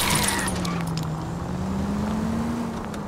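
A car driven recklessly in the 1940s Los Angeles detective game L.A. Noire, its engine droning steadily with a slowly rising and falling pitch, loud and constant under faint background noise for a few seconds.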